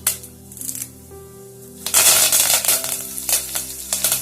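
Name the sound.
curry leaves sizzling in hot oil with jeera, cinnamon, cloves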